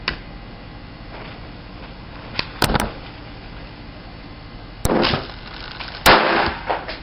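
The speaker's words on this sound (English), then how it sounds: "The use of practical firecrackers, explosions" Several sharp cracking bangs go off irregularly, some in quick pairs, against a steady background hiss, like firecrackers exploding nearby.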